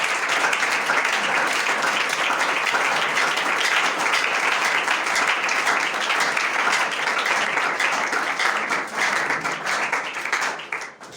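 A congregation at a church gathering applauds and cheers for the Lord, a loud, dense, steady wash of clapping with voices mixed in that holds for about ten seconds before tapering slightly.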